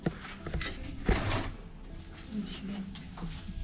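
A heavy door in an abandoned holiday resort is worked open: a thud and a scrape come around the middle, with people talking nearby throughout.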